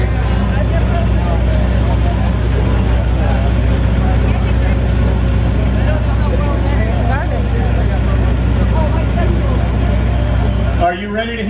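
A 10,000-horsepower car engine warms up at a 2018 Lane Automotive Noisefest car event, holding a loud, steady, deep rumbling drone that cuts off abruptly near the end, with voices faintly mixed in.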